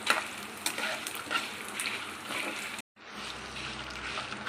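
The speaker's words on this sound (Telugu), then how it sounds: "ఇలా కలర్ చేంజ్ అయ్యే వరకు ఫ్రై చేసుకోవాలండి." Ingredients for Andhra-style gongura pachadi fry in oil in a pan, a soft continuous sizzle with light stirring, briefly cut off before resuming at a similar low level.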